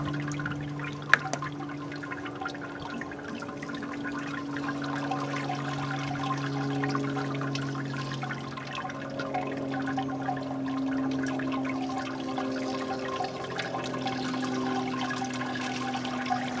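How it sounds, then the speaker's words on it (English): Water poured to rinse mash grains during a Vienna lager brew, a steady running, trickling wash with faint drips and a low hum beneath, continuous and moderately close. "Just want to try and rinse the grains to the best of your ability"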